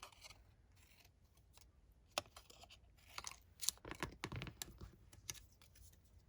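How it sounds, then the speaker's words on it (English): Scissors snip petals off a craft flower at the base, a scattered series of quiet, crisp clicks and cuts that grow busier toward the end, close and alone without talk. "So just go around and cut them off where the petal meets the base."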